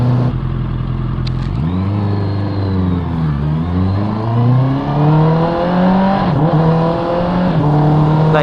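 A Honda CB650R motorcycle fitted with an Akrapovic exhaust revs loudly nearby, its engine note climbing and dropping in several sweeping throttle blips, heard alone without talk.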